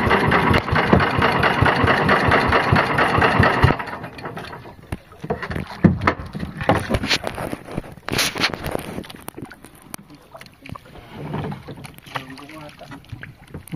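A fishing boat's engine runs loud and steady, then drops off and continues at a lower level with water and deck sounds, while people talk nearby.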